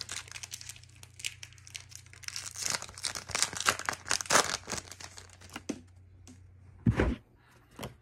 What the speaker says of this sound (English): Let's get to ripping. Pack number one, here we go.